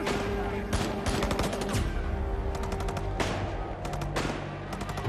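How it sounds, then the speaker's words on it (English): Rapid bursts of automatic gunfire crackle through a tense TV crime drama shootout, loud and nearly continuous with brief gaps between volleys. "He's gonna shoot him."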